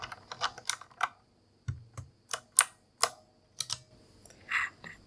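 Sharp clicky green switches on a Razer mechanical keyboard snap in an uneven series of distinct presses, each a crisp close click with short silences between, alone without speech.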